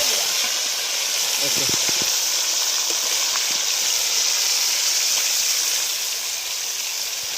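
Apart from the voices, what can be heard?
chicken pieces frying in oil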